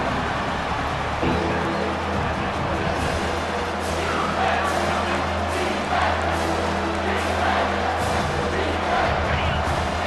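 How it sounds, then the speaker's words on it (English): Stadium crowd roar in College Football 25 builds as a steady, loud wash beneath a commentator's voice, with a low droning tone underneath throughout. "Decibels rising as the crowd gets behind this defense on 3rd down"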